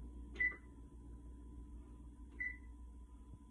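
Oven control panel set to bake gives two short electronic beeps about two seconds apart, clear and close over a faint steady kitchen hum.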